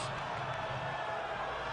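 Darts crowd at the PDC Grand Slam of Darts 2010 reacting in the arena, a steady murmur and cheer of many voices held through a brief moment.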